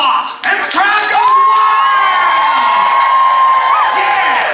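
Loud, sustained crowd cheering and whooping from a theme-park audience at a live Aladdin musical stage show at Disneyland Resort, a bright wall of voices rising after a brief lull and holding steady throughout.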